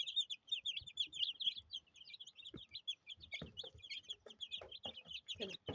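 Many tiny market-bought chicks cheep constantly in high, overlapping peeps, with soft clucks and rustling underneath, close and fairly quiet.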